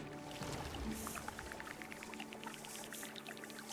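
A water pump in the Terra Nil video game pours water in a soft, continuous stream with gentle bubbling, quiet and steady, with a faint musical tone underneath and no talking.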